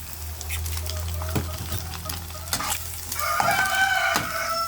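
Boneless milkfish (bangus) for sisig sizzles in a pan as it is sautéed, with a steady frying hiss, scraping stirs and a louder crackling burst toward the end, while a rooster crows in the background.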